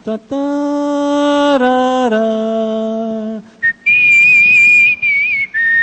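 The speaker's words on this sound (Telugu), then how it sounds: "my speciality is I will sing with whistle" A performer on a reality talent show whistles a song tune, with long sustained notes stepping down in pitch, then a brief pause and higher, wavering notes, loud and close.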